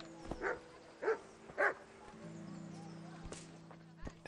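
Three short dog barks from the video game Kingdom Come: Deliverance, quiet and evenly spaced in the first two seconds, followed by a low steady game tone with a few soft clicks.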